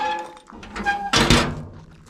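The lid of a locked bear-proof trash bin is lifted and drops with a single heavy, close thud. Softer rattles and scrapes of the bin come before it.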